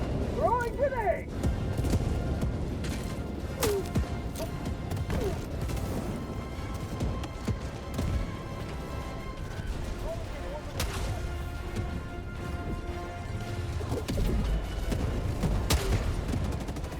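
Grenade explosions in Helldivers 2, scattered sharp blasts and crashing impacts amid intermittent gunfire over a constant battle rumble, with voices calling out across the scene.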